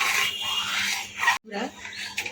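Rice and milk stirred in a pot while cooking payesh, a sweet rice pudding made without sugar or jaggery, producing a close, continuous scraping and swishing with a brief break, under a speaking voice.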